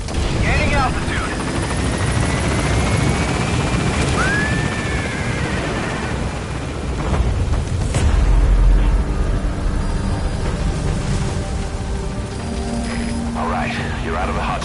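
Helicopter in Metal Gear Solid V climbing away from a landing zone, its rotor wash a loud, constant roar with a rising whine, joined by a brief booming impact midway and game radio chatter.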